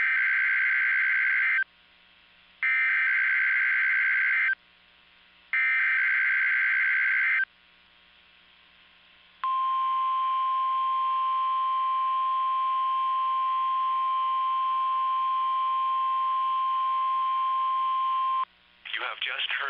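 Weather radio warning alarm test from the National Weather Service for Oklahoma and North Texas: three loud, steady two-tone bursts with short gaps, then a long continuous single-pitch alarm tone lasting about nine seconds, ending with a brief burst of static.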